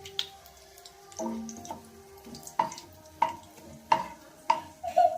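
Crushed cardamom stirred into melted ghee in a pan, a faint sizzle under a series of sharp metallic taps and scrapes of the spoon against the pan, growing more frequent toward the end.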